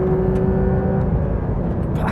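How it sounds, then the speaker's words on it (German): Porsche 992 GT3 RS engine on a race track, a loud continuous roar with a steady tone that gives way to rougher, broadband engine noise, close and alone. "Bis 9000 Touren drehen."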